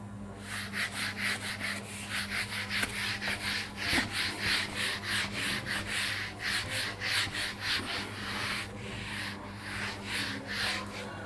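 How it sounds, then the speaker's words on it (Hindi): Someone rubs out writing on a board during a physics lesson, making a rapid rhythmic series of dry scrubbing strokes, close and steady, with no talk over it. "मैं इसको रब कर रहा हूँ और मैं ऊपर से लिख रहा हूँ। ठीक है, इसको मिटा रहा हूँ।"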